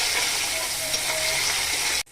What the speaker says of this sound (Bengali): পেঁয়াজটা একটু ভালো করে ভাজা ভাজা করে নিতে হবে